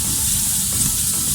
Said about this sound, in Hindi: अब हम इसमें टमाटर डाल देते हैं